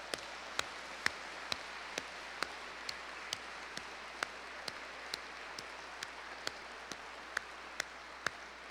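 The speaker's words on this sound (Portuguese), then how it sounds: "Deixa que eu mesmo aplaudo." Sparse, evenly spaced hand claps from a single person at a Catholic religious talk, about a dozen sharp slaps over several seconds, moderately near against a hissy room background with no talk.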